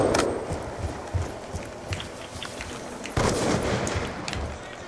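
Video game gunshots during a trickshotting match: a few sharp, punchy reports spaced a second or two apart, the loudest near the start and around three seconds in, over a steady game backdrop.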